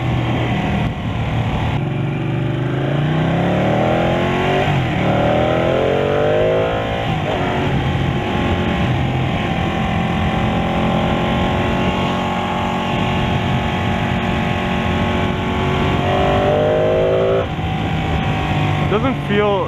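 A Ducati Panigale 1299 motorcycle engine drones steadily while riding, its pitch rising with each gear and dropping at soft gear shifts, close and constant as a rider talks over it.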